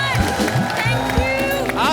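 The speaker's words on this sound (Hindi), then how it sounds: "एक बार सिद्धार्थ और जैकी के लिए जोरदार तालियां।" Studio audience at a comedy talk show breaking into loud applause and cheering, dense clapping and shouts filling the room beneath a host's voice.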